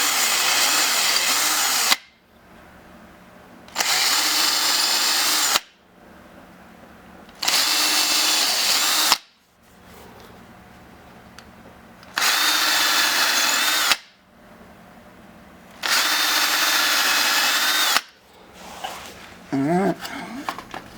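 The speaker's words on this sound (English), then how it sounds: "Let's get our drill. We're going to put some pilot holes in here." A power drill bores pilot holes in wood for mounting workbench casters, with five loud bursts of whirring drilling of about two seconds each, separated by short quiet gaps. A voice speaks briefly near the end.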